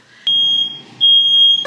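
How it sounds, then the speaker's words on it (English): A household smoke alarm going off while fries cook: loud, shrill, sustained electronic beeps in two long bursts, close by with no talk. "Got the damn fire alarm going off."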